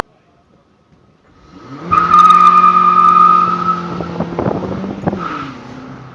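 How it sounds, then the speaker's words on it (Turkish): Car driven for drifting practice: the engine is revved hard at full throttle and held screaming for about two seconds, then the clutch is suddenly dropped, bringing tire squeal and a jolting surge as the car lurches off, loud and close. "Gazı dip gaz yap. Araç bağırsın, bağırsın, bağırsın, bağırsın. Debriyajı birden bırak."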